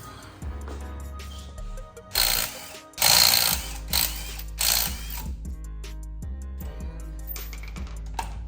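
A ratchet clicks and an air impact tool buzzes in loud bursts as lug nuts are loosened on a Mazda Miata, taking a wheel off, with steady ratcheting between the harsher rattling runs.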